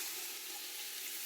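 A small diced white onion and turnip sweating in a pan, giving a steady, soft, even sizzle with no voices.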